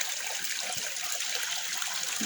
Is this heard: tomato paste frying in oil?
no